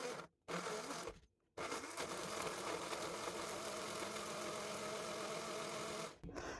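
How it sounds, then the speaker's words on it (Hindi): An electric grinder whirs through a batch of spices in a steady, fairly quiet motor drone, cutting out briefly twice near the start before running continuously and then stopping at the end. "ये देखिए जितने भी मेरे मसाले थे उन सबको मैंने इसमें डाला और अब मैं इसको ग्राइंड कर लूँगी"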